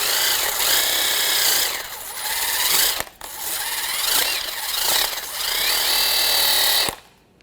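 A hand wire brush scrubs rust off a Ford Escape rear brake caliper bracket in repeated rapid rasping strokes, close and loud, with brief pauses between bursts.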